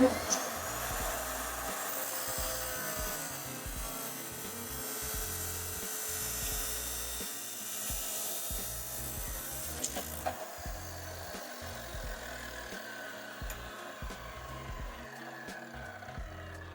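A power tool grinds steadily for a long stretch while cutting down a 5/8 spark plug socket, a continuous close whine that shifts slightly in pitch, with faint talk underneath.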